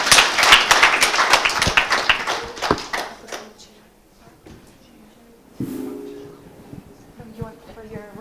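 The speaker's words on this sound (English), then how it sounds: "How about a round of applause, Mark?" Audience applause at a panel discussion event bursts out loudly and fades over about three seconds, followed by quieter taps, shuffling and talk.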